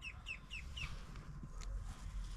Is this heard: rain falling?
no